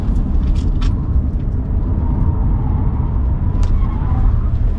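A Tesla Model 3 Performance 2022 with all-wheel drive is driven and pivoted, giving a loud, steady road and drivetrain rumble throughout, with a few brief higher squeaks or scrapes on top and no talk.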